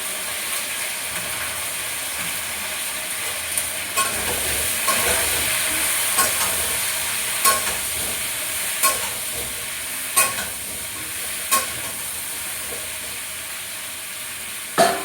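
Vegetable curry with turmeric and salt stirred in a pan, a steady loud sizzle broken by sharp periodic scraping strokes of the spoon every second or so.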